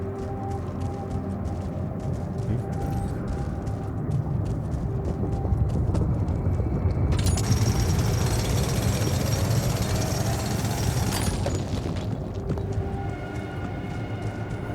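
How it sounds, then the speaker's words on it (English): A drilling tool bores through loose rocks in the video game The Alters, a harsh, grinding mechanical roar that swells for several seconds over a constant low rumble before cutting back, with no voices. "Only I had a tool to drill through them."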